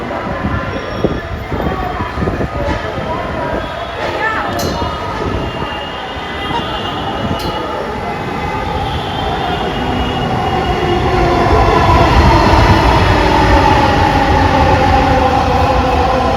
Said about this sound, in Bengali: আমরা এখন ট্রেনের জন্য ওয়েট করতেছি